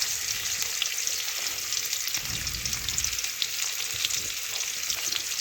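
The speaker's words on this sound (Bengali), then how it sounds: "ওই তেলে দেখুন আমি সরু সরু করে আলু কেটে রেখেছিলাম, আলুগুলো এখন ভেজে নেব।" Thin-cut potato strips fry in hot oil, giving a steady, bright sizzle throughout, with a brief low stirring rumble midway and no talking.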